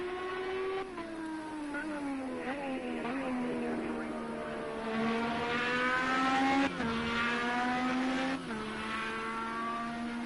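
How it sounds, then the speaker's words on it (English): Race cars lapping at Road America during a practice session, engines droning and shifting pitch as they rise and fall through gears, with steady revving over about ten seconds. "Right now, Emma Green has the fastest car so far"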